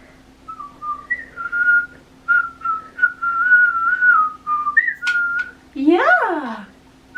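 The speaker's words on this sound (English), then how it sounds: "We were singing and whistling a lot." A person whistles a meandering tune indoors in a room with a pet bird, the thin melody close and steady, ending in a quick swooping chirp-like call.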